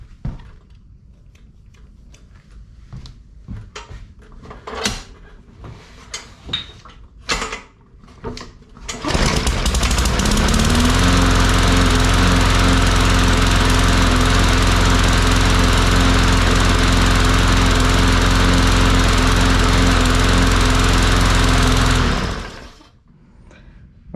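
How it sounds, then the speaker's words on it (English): A Bolens push lawnmower clicks and sputters through several pulls before catching, then its small engine roars loud and steady at close range for about twelve seconds before cutting off. "I'm going to go ahead and attempt to start this lawnmower"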